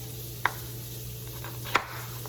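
A knife cuts through thin onion slices on a cutting board in a kitchen, making two crisp, separate chops a little over a second apart against a quiet, steady background hum.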